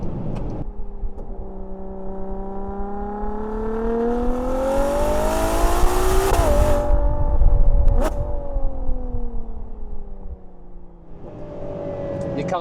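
Ferrari Purosangue engine in sport mode with the manual gearbox, revving up with rising harmonic tones, then a sharp gear change and falling pitch, close and strong with tyre and road noise underneath.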